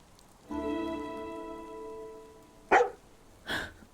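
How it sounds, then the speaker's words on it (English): A long, tonal, drawn-out whine from a dog in the video game Farewell North, followed by two short sharp barks close by, over faint patter in the background. "Why are you barking, buddy?"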